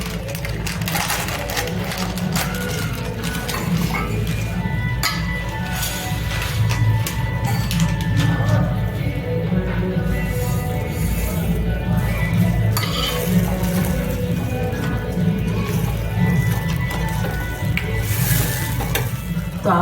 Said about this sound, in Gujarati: હવે આપણે એમાં સેવ નાખીશું ઉપરથી.